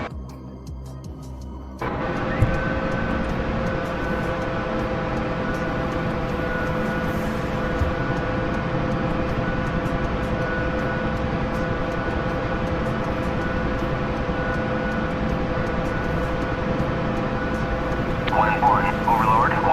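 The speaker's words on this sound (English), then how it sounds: "let me do a quick little helicopter warm-up." A helicopter engine spools up in a flight combat simulator, a steady loud turbine whine and rotor drone that swells after a quiet start and holds near and constant throughout.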